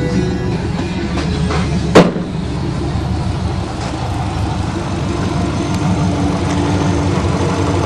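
A Subaru Legacy's 2.5 liter boxer engine idles smoothly and steadily up close, an even low rumble with a single brief knock partway through.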